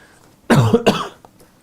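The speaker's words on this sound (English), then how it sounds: "Can't get this cough out." A single close, harsh cough in two quick bursts, followed by a faint breath.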